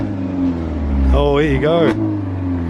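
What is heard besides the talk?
car with tuned 1.75 engine revving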